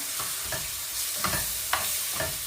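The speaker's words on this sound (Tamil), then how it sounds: "இறாலோட சேர்த்து நல்லா மிக்ஸ் பண்ணி கொடுப்பேன்" Prawns stirred with masala powder in hot oil, each spoon stroke landing as a distinct scrape about every half second over a low, steady sizzle, with no one talking.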